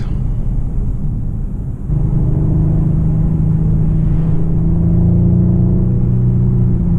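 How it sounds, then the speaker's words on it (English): The 1.5-litre engine of a 2026 Mercedes CLA 220 drones in a low, steady hum from inside the cabin, its tone rising and settling as the car accelerates. "So it does really have a vibe of like a 6-cylinder engine"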